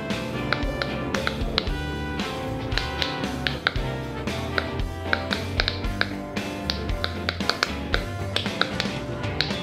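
A heart-shaped silicone pop-it fidget toy is pressed rapidly, giving a dense stream of soft pops and taps close up over steady background music.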